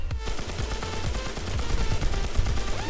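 Rapid automatic gunfire rattles in the video game WarZ, a dense, continuous stream of loud, close shots that lasts through the whole stretch with no clear talking.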